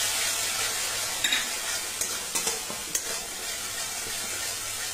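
Spices with chili powder and a splash of water sautéing in a pan for a hilsa curry with potato and eggplant, a continuous hiss under a short run of spatula scrapes and taps.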